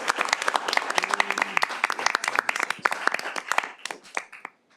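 A small crowd at a city council meeting claps, a brisk burst of distinct hand claps that thins out and stops abruptly near the end.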